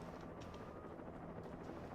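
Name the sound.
helicopter in the video game Alan Wake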